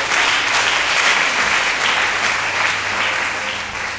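A congregation at a church anniversary service claps in sustained, dense applause, loud and steady throughout with no pause.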